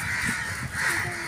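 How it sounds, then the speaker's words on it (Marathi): Crows caw from a tree in a short burst of harsh, rasping calls, fairly close and clear over light background noise. "कावळे काव काव काव काव करते ते बघले का नाही,"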